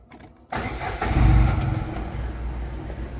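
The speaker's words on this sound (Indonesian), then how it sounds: "kita lihat mesinnya dulu ya Bismillahirrahmanirrahim kita coba nyalakan ah" A Datsun Go+ family car engine cranks and catches after a brief quiet moment, surging loudly up close before settling into a steady idle.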